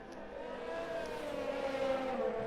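A Ferrari race car engine in a racing game at the Belgium round, a steady high-pitched whine that climbs gradually as it accelerates, continuous and fairly loud with no voices.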